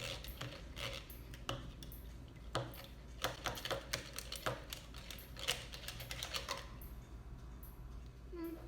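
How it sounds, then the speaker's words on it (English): Eggs whisked in a bowl for noodle dough, a rapid close series of light clicking taps of the whisk against the bowl that fades out near the end. "So I'm just gonna have to keep whisking it until that disappears."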